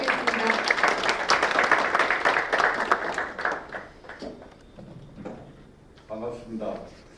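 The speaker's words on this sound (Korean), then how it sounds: "따뜻한 박수 부탁드리겠습니다." Audience applause at an indoor policy forum on sports for people with disabilities: a loud, dense burst of clapping that gradually thins out, followed by a few faint scattered claps and a voice speaking.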